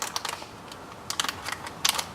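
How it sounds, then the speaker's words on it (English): Window tint film peeled away from its clear liner with tape tabs, giving a run of dry crackling, crinkling bursts in quick clusters, close and fairly quiet with no talking. "you could pull it apart so you can see"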